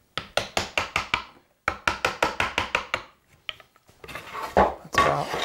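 A chisel chops into wood to cut a tapered sliding dovetail by hand, struck in two quick bursts of about seven sharp mallet taps each. Softer scraping and handling sounds follow, all close by.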